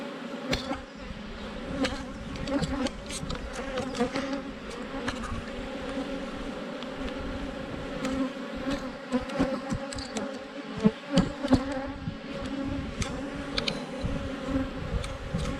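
Honey bees buzz steadily during a full hive inspection, with brood and drones in the frame. The dense, continuous hum stays close and fills the whole stretch, with no talking.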